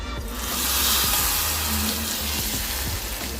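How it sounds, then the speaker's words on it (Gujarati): Hot tempering of curry leaves, dried red chillies and Kashmiri red chilli powder poured into sambar, giving a loud, steady, close sizzle with no voices. "હવે આ વઘાર આપણે સાંભારમાં નાખી દઈશું."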